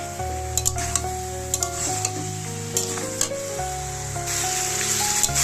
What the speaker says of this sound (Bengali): সয়াবিনটা আমি খুব ভালো করে কষিয়ে নিয়েছি অনেকটা ভাজা ভাজা হয়ে এসছে